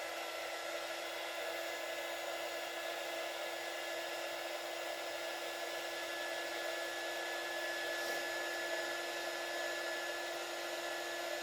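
Heat gun blowing a steady, loud, continuous whoosh of hot air onto an embossed paper craft tag, unchanging for the whole stretch with no voices.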